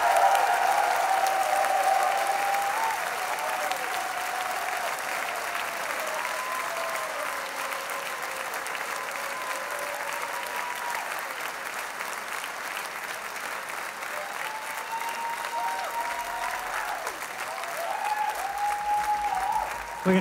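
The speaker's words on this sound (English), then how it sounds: "Give yourselves the hugest round of applause that you can." A large audience at a concert at Koko claps loudly and steadily for about twenty seconds, with occasional whistles rising above the applause.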